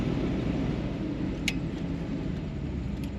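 A 1958 Cadillac Eldorado Brougham, a project car with propped-up suspension, idles steadily with a smooth, even low rumble close by and a couple of faint high ticks over the engine.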